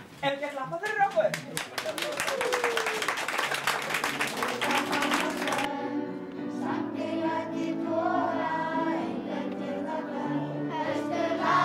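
A burst of audience applause in Iceland, dense and lively clapping for a few seconds that then stops, giving way to talking over quiet background sound.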